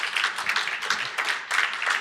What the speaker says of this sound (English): Clap your hands for Ivana and Tine